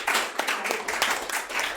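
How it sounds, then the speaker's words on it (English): A small group claps for people who cleared the CS exam, quick overlapping hand claps in a brief burst, moderately loud and close, with no talking. "for those of you whoever cleared, a big round of applause."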